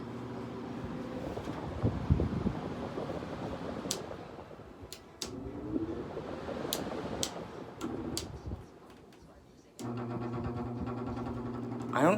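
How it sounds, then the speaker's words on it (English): A Haier 5,200 BTU window air conditioner's fan motor hums while shaking, with scattered sharp ticks and rattles over the drone; the hum grows louder and steadier near the end. "I don't know what's causing that motor to shake like that."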